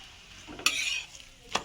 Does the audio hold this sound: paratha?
yes